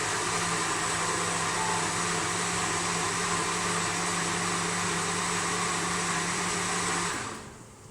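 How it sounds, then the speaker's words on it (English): Electric whisk or blender-type motor whirring steadily as meatball mixture of pork and beef is whisked up, a loud continuous drone with a low hum that cuts off near the end. "Right, I'm gonna whisk this up."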